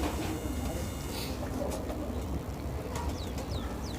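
Pigeons kept by a Haryana pigeon fancier coo faintly in a soft, low murmur, mixed with a few brief bird calls and background noise.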